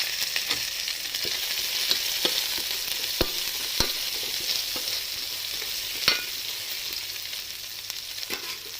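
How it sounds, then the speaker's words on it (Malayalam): Shallots and halved dried red chillies fry in a pan with a steady bright sizzle, punctuated by occasional sharp clicks of a spoon stirring against the pan. "ഇതിലേക്ക് നമുക്ക് ഒരു അഞ്ച് വറ്റൽ മുളക് ഇതിനകത്തേക്ക് ഇട്ട് കൊടുക്കാം ഇത് രണ്ടായിട്ട് മുറിച്ചായിട്ട് കൊടുക്കും"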